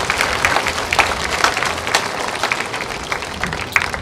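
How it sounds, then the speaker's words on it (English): A large crowd applauds at an evening patriotic event, dense sustained clapping rising and falling in loudness, close and loud with no talk over it. "Give yourselves a big round of applause."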